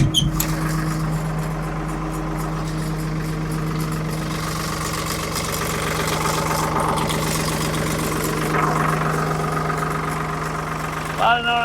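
A 1975 Ford 550 diesel backhoe engine idling steadily with a low, even throb and a slight knocking rattle, running close and continuous throughout.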